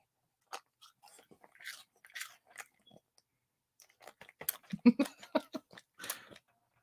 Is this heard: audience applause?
no